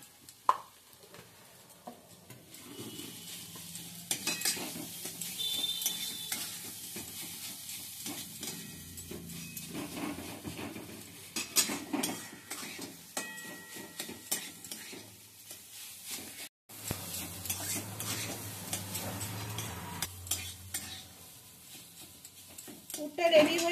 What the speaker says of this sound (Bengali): এবার ভালো করে আমি নেড়ে চেড়ে পুরটা তৈরি করে নিচ্ছি।